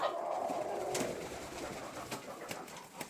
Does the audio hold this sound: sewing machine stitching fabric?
no